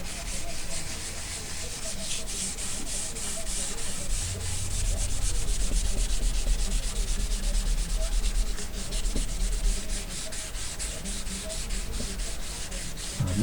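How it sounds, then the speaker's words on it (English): Steady rubbing strokes of wet sanding on a wood inlay with P600 sandpaper, a continuous close, even scrubbing noise with no talk. "I'm not sure how important it is when you're wet sanding to go with the grain on a high grit."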